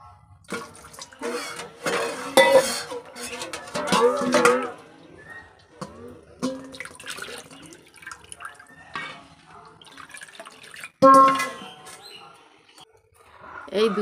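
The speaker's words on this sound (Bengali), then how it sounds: "তো গামলাটা একটু ধুয়ে দিব।" A basin is rinsed out with water in a home kitchen after almond milk has been poured from it, giving intermittent close splashes and sloshing bursts separated by short quiet gaps.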